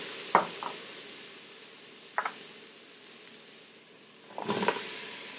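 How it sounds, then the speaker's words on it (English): Tomato tossed into garlic frying in a pan brings a few short clattering, scraping bursts over a faint background sizzle, the last burst longer and busier. "Now to the garlic, I'm going to add the tomato"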